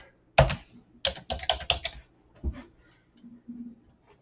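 Keys on a computer keyboard are tapped in a short burst of close clicks, followed by a few softer isolated presses.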